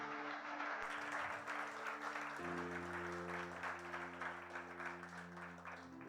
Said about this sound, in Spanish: ¿Cuánto le dan un aplauso al Padre en esta tarde?